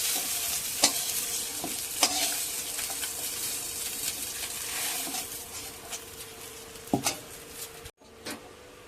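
Fish pieces being lifted out of hot frying oil, with a steady crackling sizzle broken by sharp clicks and scrapes of a utensil against the pan, close and fairly quiet.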